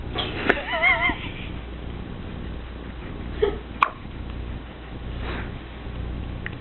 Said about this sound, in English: Oh, I thought that might have gotten rid of the hiccups.